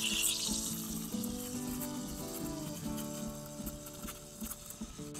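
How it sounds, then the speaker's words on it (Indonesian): An espresso machine steam wand steams milk for a hot chocolate latte, giving a steady, fairly quiet hiss and gurgle with a faint rising tone, continuous throughout with no speech. "Baru mulai steam."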